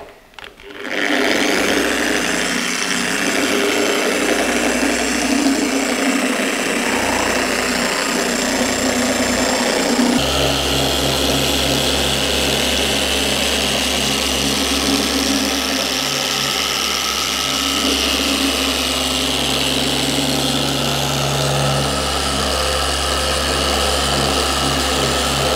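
A car paint polisher buffing wet-sanded paint at low speed, a steady loud motor whine and hum that spins up at the start and shifts to a deeper droning tone partway through, continuous and close, with no talking.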